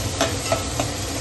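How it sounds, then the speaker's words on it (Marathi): Three medium-sized onions frying in a pan, stirred at a steady pace with soft scraping strokes about every third of a second over a faint, continuous sizzle. "कांदा भाजून घेते मी"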